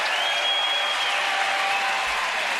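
Baseball fans at Camden Yards during a Texas Rangers at Baltimore Orioles game applaud a batter coming to the plate, a steady, even stadium-wide clapping heard from a distance.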